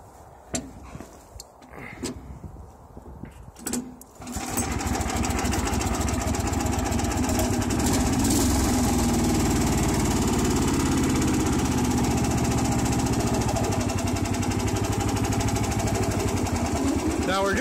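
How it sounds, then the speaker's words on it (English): A Sears Suburban garden tractor engine cranks with a few brief bursts, then catches at about four seconds and runs loud and steady, close by and continuous to the end, with a voice briefly over it. "I'll start up this sears and we'll do a little test drive."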